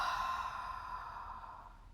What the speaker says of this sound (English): Fog a mirror with your exhale.